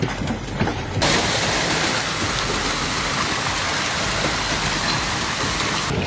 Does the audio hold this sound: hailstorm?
yes